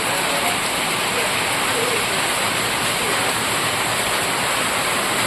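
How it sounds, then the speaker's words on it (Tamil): Heavy rain falls steadily on a village in Tirunelveli district, a loud, dense, unbroken hiss that fills the whole scene with no pauses. "இப்போ நல்லா மழை பெய்யுது"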